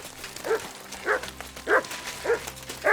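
Max, a dog in Kingdom Come: Deliverance II, gives five evenly spaced short barks over about three seconds, close and moderately loud, with no talking.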